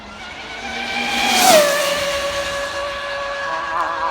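An Arrma Limitless RC car with a Castle XLX2 controller and 1717 1650kv motor screams past at around 150 mph, a rising whine that peaks and drops in pitch as it passes, with a hissy burst as a tyre lets go.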